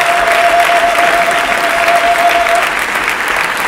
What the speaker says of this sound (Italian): un applauso e un ringraziamento a Simone De Tutti, a Bruna Graziani che coordina tutto questo staff